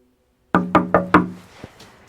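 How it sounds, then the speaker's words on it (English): Four firm knocks on a door land in an even rhythm, close and loud after silence, followed by a fainter single tap. "A Knock on the Door."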